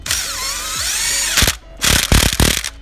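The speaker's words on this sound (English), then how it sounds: "You use a power drill." A power drill whirs steadily, then stops and restarts in rapid rattling bursts driving bolts during a Honda Civic AC compressor replacement, loud and close, with no talking.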